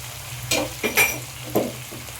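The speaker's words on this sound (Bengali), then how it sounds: "ভালো করে আমি চিকেনের সাথে আদা রসুন বাটাটা ভুনে নেব একটুখানি 4-5 মিনিটের মতো" Chicken with ginger-garlic paste and salt being stirred and fried in a pan, a few separate stirring scrapes and bursts of sizzle rising over a low steady background, close and moderately loud, no talking.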